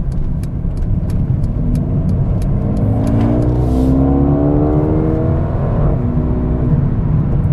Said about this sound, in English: You heard from the exhaust, it's popping a little bit.